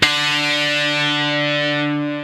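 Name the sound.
electric guitar octave notes played together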